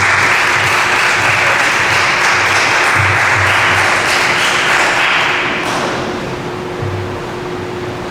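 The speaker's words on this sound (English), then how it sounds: "Give a round of applause." Loud, dense applause from an audience at a Leukemia & Lymphoma Society community event fills the room and then tapers slightly toward the end, with no one talking over it.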